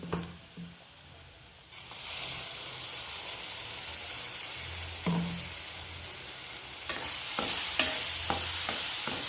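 Ground masala for a tomato gravy frying in oil and stirred in a pan, a steady loud sizzle and hiss with scraping stir strokes that grow busier toward the end, no talk.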